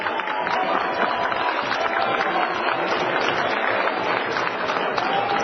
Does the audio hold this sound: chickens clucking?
no